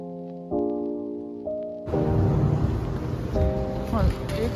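Steady rain hisses in outside an IKEA store, joining tonal sounds and a voice; the downpour is moderately loud and constant for the rest of the clip.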